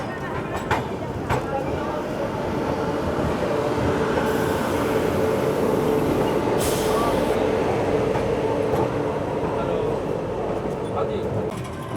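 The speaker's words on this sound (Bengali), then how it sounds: "পাটনা থেকে আমাদের ট্রেন রওনা দিল, আর এই ট্রেনটি হলো হাওড়া নিউ দিল্লি দুরন্ত এক্সপ্রেস" The Howrah New Delhi Duronto Express 12273 runs out of Patna, heard from inside a crowded coach as a loud, steady roar with rattling wagons, a brief wheel squeal and murmuring passengers.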